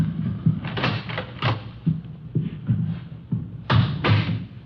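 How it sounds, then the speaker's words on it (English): Door handled indoors in a hotel room, a series of close thumps, knocks and rattles spaced unevenly across a few seconds, with rustling between them. "I'll get the door."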